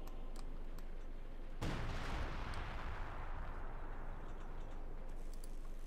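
An artillery shell strikes in a Company of Heroes 2 match and hits a vehicle with a heavy explosion. A long rumbling blast fades out over several seconds behind a faint ticking.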